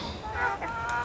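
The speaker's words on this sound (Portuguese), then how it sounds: "Olha como elas são, essas galinhas." Chickens cluck in a few short, close bursts, with no talking; they are gathered around acerola fruit being offered to them.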